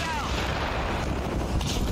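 Continuous loud gunfire and booming artillery in Battlefield: Bad Company, a dense rumbling barrage with scattered sharp cracks filling the whole moment.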